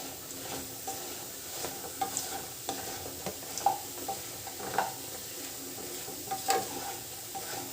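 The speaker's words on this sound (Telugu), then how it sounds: "ఫ్రై అయింది ఇంకా కాసేపు అవ్వాలి ఫ్రై" Soya chunk curry fries in oil in a pan, a soft steady sizzle broken by regular scraping stirs of a spoon, close and fairly quiet with no voices.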